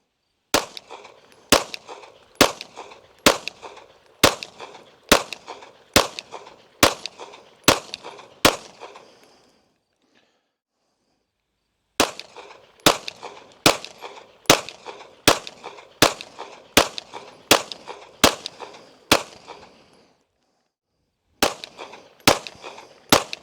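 Ten sharp handgun shots through a competition red dot sight, fired in a steady rhythm, then a pause and a second string of ten, then a few more, loud and close with short decays and no talk.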